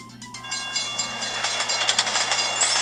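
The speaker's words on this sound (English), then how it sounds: "Oh god, 2 freight trains." Two freight trains pass a railroad crossing in a mobile game, giving a steady rumbling rush of wagons with rhythmic clacking that builds slightly and holds, with no speech.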